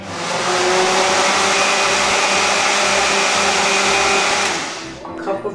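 A blender runs steadily, loud and continuous, churning coquito with cinnamon water for about five seconds before the motor winds down and cuts off.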